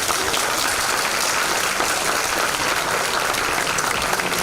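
Loud, dense applause from a large audience at a university event, an unbroken roar of many hands clapping close up, steady throughout with no voices standing out.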